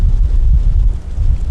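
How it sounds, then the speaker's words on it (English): Strong west-northwest wind gusts buffet the microphone on a river, producing a dense, loud low roar that pulses unevenly throughout, with no voices. "the winds are coming out of the west northwest, 27 mile per hour to 40 gusting"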